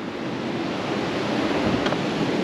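Ocean surf at Daytona Beach rushes in a steady, broad wash of breaking waves, with a faint breeze over the microphone and no voices.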